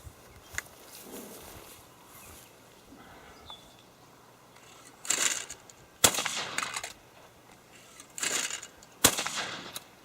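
Several shotgun blasts from a Fabarm XLR5 Waterfowler with a standard flush choke, sharp loud reports spaced a second or two apart outdoors, with a quieter stretch of ambient noise before them.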